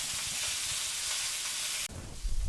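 Chuck roast browning in a hot pan makes a dense, close sizzle for about two seconds, then it cuts off abruptly into a low handling rumble.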